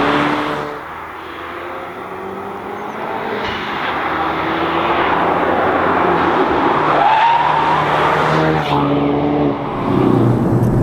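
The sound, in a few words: Ford Focus RS drifting in Drift mode, tires skidding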